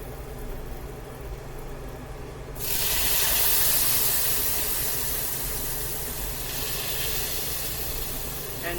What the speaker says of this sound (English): and then it's supposed to steam